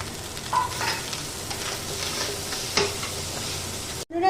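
Cooked rice goes into a frying pan of Persian dolma filling, giving a steady sizzle with stirring scrapes and a couple of sharp clinks, close and unbroken, with no talk.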